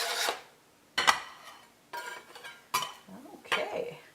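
Dip ingredients being mixed in a bowl with a utensil: five separate scraping, clinking strokes of metal against the bowl, close and distinct, spaced roughly a second apart with brief quiet between them.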